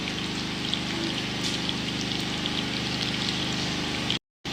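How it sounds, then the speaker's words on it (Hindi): Green chilies frying in hot oil for a tempering, a steady dense sizzle and crackle that stays close and even throughout, then cuts out briefly near the end. "हमारी मिर्चें फ्राई हो रही हैं।"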